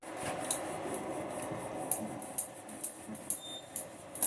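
Roti dough rolled out with a rolling pin in a home kitchen: quiet, soft rubbing and scraping that settles into a regular knock of light taps about twice a second, with no talk.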